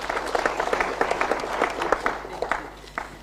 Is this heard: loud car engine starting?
no